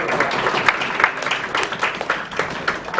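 Audience in a room applauding, a steady patter of many hands clapping at close range, moderately loud and even throughout.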